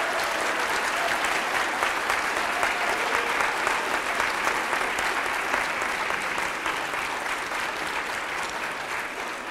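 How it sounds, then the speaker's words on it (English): Sustained, loud, even applause from a crowd welcoming Team Canada Special Olympics athletes back from the World Winter Games in Austria, steady and dense for nearly ten seconds and easing only slightly at the end. "A big hand of applause"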